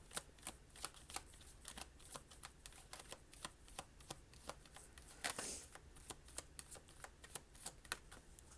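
Tarot cards are shuffled close by, giving a long run of quick, regular riffling snaps with one brief louder flurry midway, faint and with no voices.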